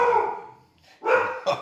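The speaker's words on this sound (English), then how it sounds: "Hold for dog." A dog barks a few times nearby during an indoor interview, a drawn-out bark followed by two quick sharp ones, alone without talk.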